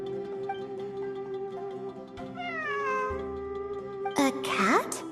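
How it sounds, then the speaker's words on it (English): A cat meows in a long, drawn-out wail that bends in pitch, joined by a steady humming tone, before a sudden burst of noise near the end. "It really is a cat."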